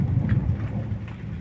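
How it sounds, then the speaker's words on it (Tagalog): Hail pelting down outdoors, a dense, continuous patter of ice pellets striking surfaces, steady and fairly loud throughout with no voices. "Yelo, ito yung inulan."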